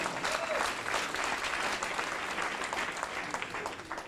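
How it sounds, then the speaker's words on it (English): An audience at a gathering applauds steadily, with dense, even clapping that holds throughout before fading slightly at the end. "Somebody start to clap there."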